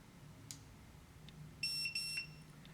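Electronic keypad deadbolt gives a short pair of high, clear electronic beeps, quiet and close, after a soft click or two, with no talk.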